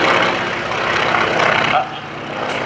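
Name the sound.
propeller airplane at an airshow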